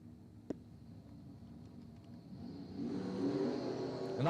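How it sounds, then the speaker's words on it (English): A dragster launches at an outdoor drag strip. A sharp pop is followed by a low rumble that builds into a loud, rising engine roar as the car pulls away. "Our first dragsters going for the day."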